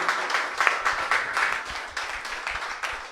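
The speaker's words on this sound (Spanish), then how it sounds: "Dale un aplauso fuerte al Señor, hermano." Church congregation applauding in steady, dense clapping that carries on evenly throughout, moderately loud with some room echo and no voices over it.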